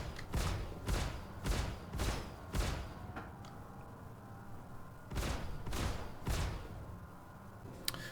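Heavy weapon bursts fire from a spaceship in the Star Citizen video game: about eight booming shots in uneven clusters, each a loud broadband blast, with brief lulls between.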